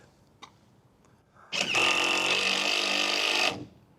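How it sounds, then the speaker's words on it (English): A power drill, used during renovation work on a boat, whirs loudly for about two seconds after a couple of faint clicks, then cuts off abruptly. "Got Rachel on the drill."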